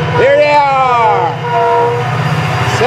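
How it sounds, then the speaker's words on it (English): FEC 336, a Florida East Coast unit freight train, passing nearby with a loud continuous rumble and rolling wheel noise, squealing tonal whines rising and falling across the cars. "Looking for the unit train."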